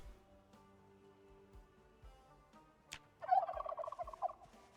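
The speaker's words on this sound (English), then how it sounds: "I love the turkeys singing from the trailer." Turkeys in Project Zomboid break into a quick burst of rapid gobbling near the end, after quiet ambient game sounds with a sharp click.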